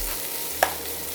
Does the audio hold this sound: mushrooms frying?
yes